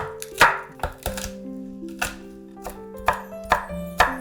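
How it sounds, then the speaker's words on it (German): Spring onions are sliced on a cutting board with a knife, giving about eight crisp, close chops at an uneven, unhurried pace, with no talking. "Lauchzwiebel in Scheiben schneiden."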